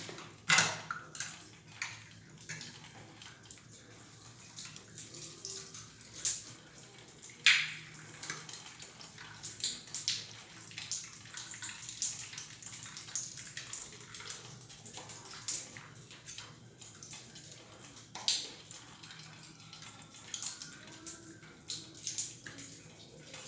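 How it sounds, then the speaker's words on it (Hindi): Water drains and trickles steadily out of an electric geyser water heater being cleaned, a continuous splashing flow with scattered drips and clicks throughout, fairly quiet and close, with no talking. "पानी भी निकल रहा है"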